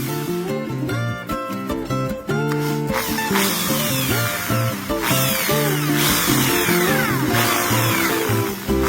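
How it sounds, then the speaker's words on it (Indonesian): A power drill bores holes in a metal jam-jar lid, the bit matched to the diameter of a copper pipe, whining loudly in several sustained bursts over background music. "Saya lubangi tutup botol dengan bor yang ukurannya sama dengan diameter pipa tembaga tadi."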